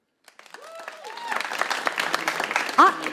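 An audience at a live comedy event breaks into applause that builds and holds steady, with voices and cheers mixed into the clapping.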